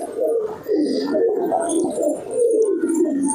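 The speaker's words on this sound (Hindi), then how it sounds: "ये देखें तीतरा कबूतर" Titra pigeons in a loft coo softly and repeatedly, a continuous, close, warbling murmur of several birds.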